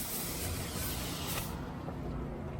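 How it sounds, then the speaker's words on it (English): A pressure washer sprays a line clean during a house wash, a loud continuous broadband hiss that holds steady before its highest part drops away partway through, with no voices. "I'm just gonna go ahead and spray this line clean with the rest of this"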